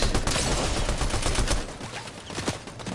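Rapid bursts of gunfire from a Fortnite Chapter 5 Season 4 duo match crackle in dense overlapping volleys, loud and close for the first half, then thinner scattered shots follow.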